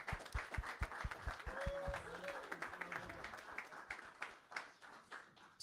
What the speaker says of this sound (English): Let's give everybody a round of applause that's on stage.